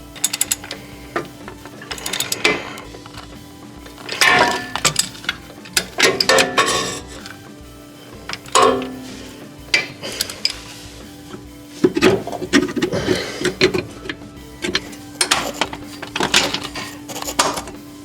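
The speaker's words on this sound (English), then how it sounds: "now I have room to get a wrench in here and bolt this mount back up" A wrench ratchets and scrapes against metal while bolting an engine mount back into a 1970 Ford Mustang Fastback, heard in irregular clustered bursts of clicks and clanks over a steady background hum.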